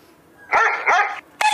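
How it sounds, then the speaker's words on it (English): A dog gives three quick, loud barks close by, two in rapid succession and a third after a short pause, heard alone without talk. "the dog barks"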